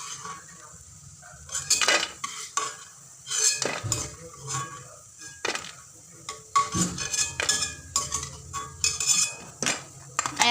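Peanuts for masala shengdana frying in a pan while being stirred, repeated sharp metallic scrapes and clinks of a spoon against the pan over a faint sizzle.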